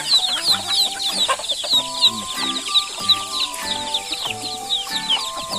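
A flock of domestic chickens clucks steadily and close by in a rural backyard, with overlapping bursts of clucking and cackling and brief crowing-like calls in a busy, continuous chorus. No one speaks.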